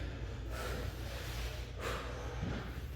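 Heavy breathing during a workout, with two or three forceful exhales that surge through a constant wash of room noise, close to the microphone.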